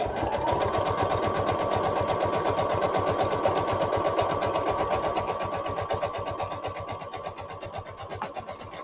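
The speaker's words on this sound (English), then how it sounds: "I'm just going to sew all the way around the border of the fabric." A sewing machine zigzag-stitches around the border of a fabric journal cover, its needle pounding in a fast, steady rhythmic chatter up close, gradually easing slightly toward the end.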